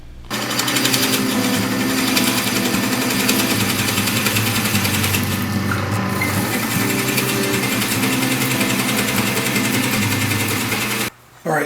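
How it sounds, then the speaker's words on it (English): A drill press runs steadily while drilling into an end grain wooden cutting board blank, a continuous loud motor whine with a brief pause near the end. "So I'm going to take it over in the drill press now, and I'm going to find dead center and start with that one"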